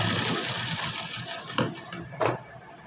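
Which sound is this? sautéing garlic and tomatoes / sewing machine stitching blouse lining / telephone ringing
sewing machine stitching blouse lining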